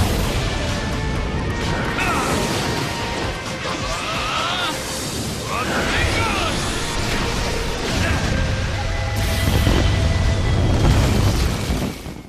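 A fiery blast from Jiraiya's Sage Power finisher, a Dragon Flame Bomb unleashing a fire tornado in a fighting game, rumbles and crashes continuously for several seconds with dense roaring layers and swelling toward the end.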